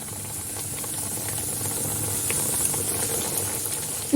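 Steady hiss and sizzle of raw börek frying in hot oil in a pan, continuous and fairly close, with faint clinks near the end.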